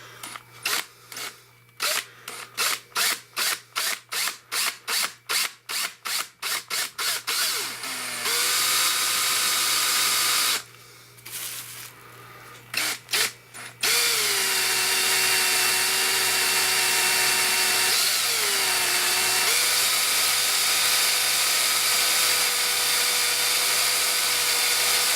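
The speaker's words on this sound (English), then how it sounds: "I'll be able to drill no problem, hopefully." A power drill bores into a tiny house to mount solar racking, starting with a rapid run of short, loud bursts and then settling into a long, steady, close grinding whine with brief pauses.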